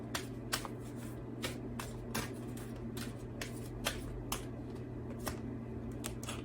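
Oracle cards being shuffled by hand, a series of crisp riffling bursts at a fairly regular pace over a constant low background hum.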